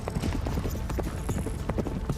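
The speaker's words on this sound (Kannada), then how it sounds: "ಅರೆ, ಈ ಕುದುರೆಗಳು ಎಲ್ಲಿಂದ ಬಂದವು?" Several horses clip-clop in an animated centaur magic episode, their hooves sounding as a steady, fairly faint patter of overlapping hoof strikes with no other sounds.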